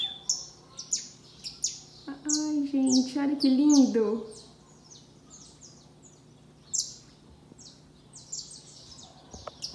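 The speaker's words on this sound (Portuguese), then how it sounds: "Que passarinho fofinho." Small bird chirping and tweeting in quick high bursts, steady through the clip, with someone speaking affectionately over the middle stretch.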